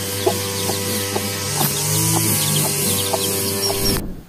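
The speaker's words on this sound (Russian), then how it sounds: "Цыплятки наши маленькие." Small chicks and a mother hen cluck in soft, repeated bursts close by, a steady chorus of short clucks and peeps over a low hum, with no talking.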